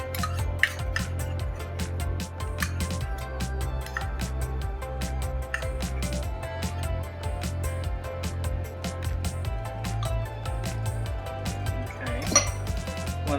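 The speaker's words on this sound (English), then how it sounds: "just stir it until it kind of incorporates into the liquid" A spoon stirs honey into elderberry syrup in a pot, giving steady light clinks and scrapes against the metal in a loose repeating rhythm, with no talking.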